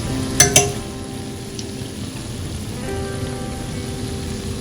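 Twisted doughnut frying in hot oil, with a steady, even sizzle throughout and two brief sharp clicks near the start, no voices.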